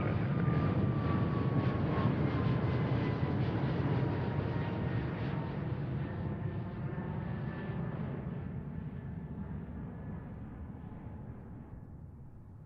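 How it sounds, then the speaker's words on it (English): An Embraer 175 jet on its takeoff roll at Seattle gives a loud, broad engine roar with a falling whine that slowly fades as the aircraft pulls away, with no talking. "Okay, we already have our next aircraft on takeoff roll."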